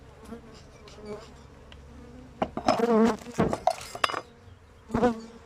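Bees buzz close by in uneven bursts, louder swells of droning wings rising and fading over a quieter background hum.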